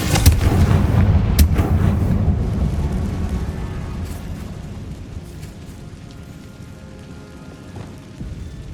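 Confringo fire spells explode in Hogwarts Legacy, with a burst of loud, booming blasts at the start that fade into a rumbling, crackling tail.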